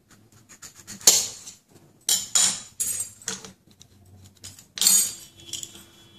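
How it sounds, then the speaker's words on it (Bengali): A raw green mango is peeled with a peeler in a kitchen, producing several short, sharp scraping strokes separated by quiet pauses, with small clinks of metal, close and clear. "প্রথমে আমি কাঁচা আমটাকে ছাড়িয়ে নেব।"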